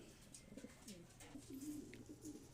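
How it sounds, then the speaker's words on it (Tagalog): Soft, low racing pigeon coos repeat in a quiet loft, several birds murmuring close by with faint rustling and no talking. "Ayan, ayan yung mga ibon natin, dito lang naman sila lahat"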